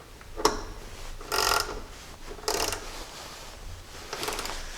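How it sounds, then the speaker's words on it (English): A ratchet tightens a 14 mm nut on a Jeep's alternator wire at the fuse, giving three short bursts of rapid clicking with a single click before them, close and fairly loud. "Then we can tighten that down with a 14 millimeter."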